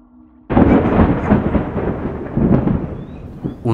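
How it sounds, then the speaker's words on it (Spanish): Distant thunder rolls in as dark clouds approach from the mountains: a sudden loud crack-like onset, then a long, heavy, rumbling roll that swells and fades over several seconds, with no voices. "Un trueno sonó a lo lejos."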